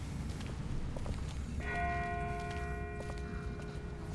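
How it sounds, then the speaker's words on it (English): A distant bell rings in The Walking Dead Season 1 video game, one sustained metallic toll with a long ringing decay, faint and far off over a steady outdoor rumble, with no talking. "That's not the same bell as before. This one's further off."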